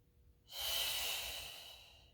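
A single long breath during a Pilates mat exercise, a steady airy exhale that swells quickly and fades out slowly, close and alone.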